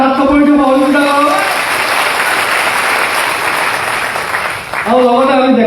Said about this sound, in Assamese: সকলোৱে হাত চাপৰি দি সহযোগিতা কৰক।